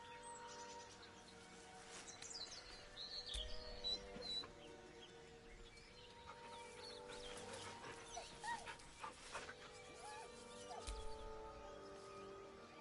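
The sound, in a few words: dog whining in Baldur's Gate 3 video game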